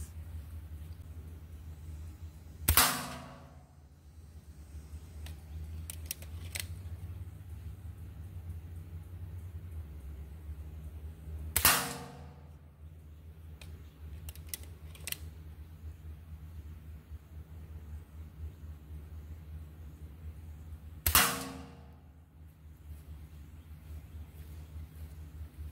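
A Gamo .22 caliber air rifle fires pellets at a target on a range, three sharp, separate shots about nine seconds apart over a low steady rumble, with faint small knocks between them.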